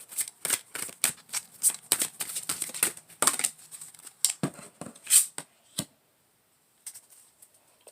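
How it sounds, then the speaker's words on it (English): Tarot cards are shuffled in brisk, repeated riffling bursts, close and crisp, followed by a short pause and a few lighter card handling sounds as one card is picked. "So, we're going to pick one card for Nay."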